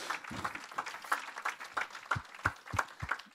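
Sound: applause for the Lord in a church

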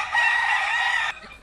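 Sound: rooster crowing

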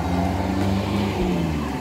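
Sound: cars driving past on a street

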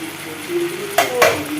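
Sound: chili powder being stirred into frying pan

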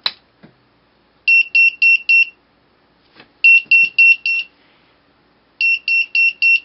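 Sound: piezo buzzer beeping

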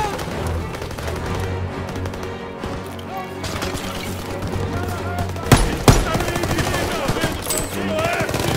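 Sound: machine gun fire in the video game Call of Duty WW2

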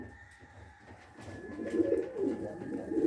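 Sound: pigeon cooing

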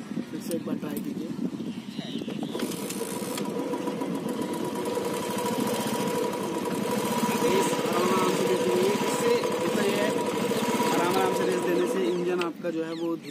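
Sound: Royal Enfield motorcycle engine idling after kick start

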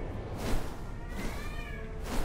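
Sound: cat meowing

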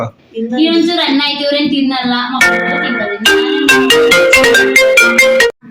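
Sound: mobile phone ringtone

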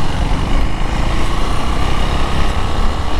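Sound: KTM Duke 390 motorcycle engine running with a noise from the engine head

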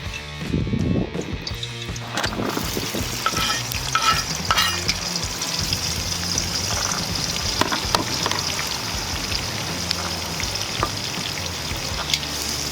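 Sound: onion frying in oil in a cauldron over a campfire

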